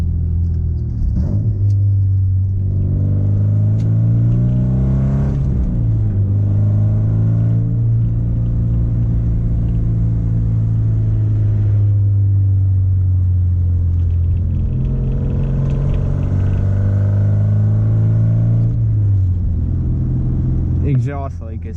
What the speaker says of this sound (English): Exhaust leak is so bad.